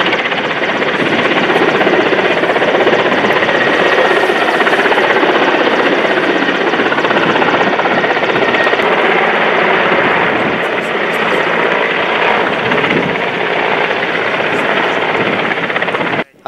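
A Mi-8 helicopter's rotor and engine roar loud and close during a rescue exercise, a constant heavy drone that never lets up.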